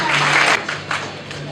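Audience clapping for graduates at a Nairobi graduation ceremony, a brief dense burst of applause that quickly thins out into scattered claps.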